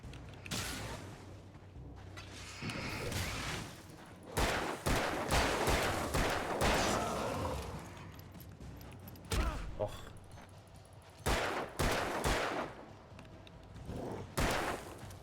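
Gunshots from the video game Alan Wake crack out in sharp bursts and scattered single shots across a tense fight, with gaps between volleys and faint background noise.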